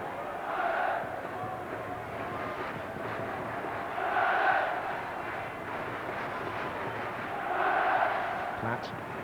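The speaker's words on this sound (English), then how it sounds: "That's an ironic cheer from the home contingent of supporters." A home football crowd at an England v Ireland match lets out a faint, distant ironic cheer that swells in three brief waves under a steady stadium murmur.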